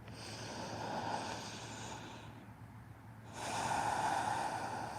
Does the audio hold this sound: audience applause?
no